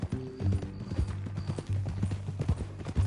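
A horse's hooves clip-clop at a steady walking rhythm in Red Dead Redemption 2, close and clear, with a low hum underneath throughout.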